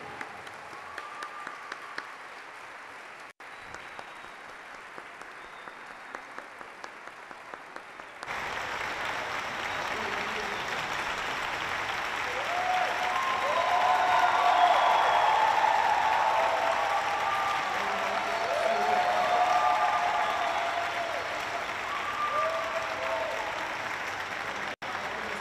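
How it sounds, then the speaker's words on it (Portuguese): An audience applauds during a solemn ceremony presenting the Tiradentes Medal. Quiet, sparse claps open the clip, then a sustained wave of clapping swells around the middle and continues steadily to the end. "pedir a todos uma salva de palmas para essa pessoa que merece muito"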